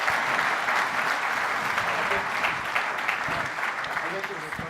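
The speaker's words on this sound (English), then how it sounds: "Let's give a round of applause." Conference audience at BMC Exchange New York applauding, sustained broad clapping from a sizable crowd that holds steady, with a voice faintly mixed in.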